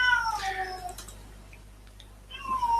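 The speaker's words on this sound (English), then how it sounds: "Sorry if you're hearing the cat in the background" A house cat meows loudly and insistently nearby, one drawn-out wailing cry followed by quieter scattered sounds and a second rising meow, set against a faint steady electrical hum.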